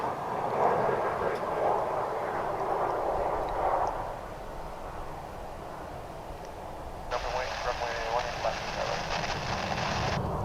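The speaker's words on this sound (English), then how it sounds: "Making a loud noise as its reverse thrusters kick in." An airliner arriving from Salt Lake City lands on runway 18 right at Dallas/Fort Worth airport, its reverse thrust producing a broad, distant roar that swells and fades while a person talks over it.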